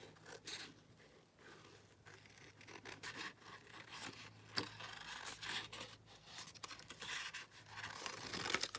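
Scissors cutting a paper frame piece for an altered book ring bound journal, quiet close snips and rustling paper scrapes in an irregular rhythm, with small handling sounds between cuts.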